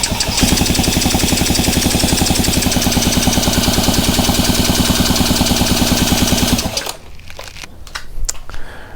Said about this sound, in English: turn the engine over